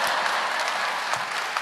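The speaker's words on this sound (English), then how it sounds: "the women were clapping" Steady applause from women in a comedy club audience, a dense wash of many hands clapping at once that holds at an even level through the whole moment, with no voices breaking through.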